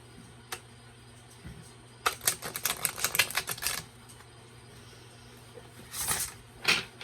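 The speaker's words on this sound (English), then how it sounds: "you can riffle shuffle them too. Let me show you." A deck of oracle cards is riffle shuffled, giving a single burst of rapid, crisp flutter about two seconds long, followed by a couple of brief taps and a shorter second flutter, close and alone.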